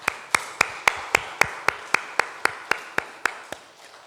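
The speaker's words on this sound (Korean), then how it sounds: "이들을 위해서 감사의 박수 한번 하겠습니다." A church congregation claps in thanks, heard as an evenly spaced series of about fifteen sharp, distinct claps in a slow, steady rhythm, fairly close and gradually fading, without talk.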